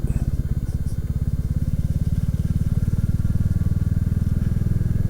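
Motorbike engine puttering in lanes, a steady low rhythmic chug with pulsing exhaust throughout, fairly close and moderately loud, no talk over it.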